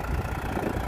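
A Euro 47 Supermaxx tractor pulling a three-disc plough through a field, its engine a steady low rumbling drone heard up close with no voices.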